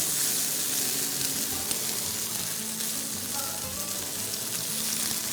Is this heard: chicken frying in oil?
yes